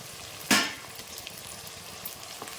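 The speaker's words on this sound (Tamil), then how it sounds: "தக்காளி போட்டு அப்படியே நல்லா வதக்குவோம்." Tomatoes go into hot oil in a pan for kuzhambu and set off a sudden burst of sizzling. It fades quickly into a soft, steady frying hiss, close by, with no talking.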